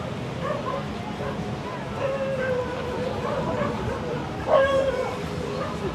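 Several dogs on a beach in Bali, Indonesia, bark and yip at mid-distance under a steady wash of crowd noise, with a sharper whimpering yelp near the end while people talk.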